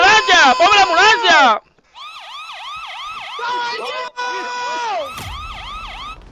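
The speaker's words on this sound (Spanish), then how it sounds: "¡Ponme la ambulancia!" An ambulance siren sound effect plays loudly in a Call of Duty Modern Warfare match, wailing in repeated rising and falling sweeps that shift pitch midway, with no talk over it.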